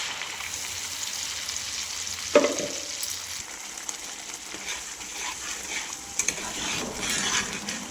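Ground spice paste frying in a pan of hot oil while making chicken white gravy, with a sharp burst of sizzle after a clatter as it goes in, then a steady crackling hiss close by.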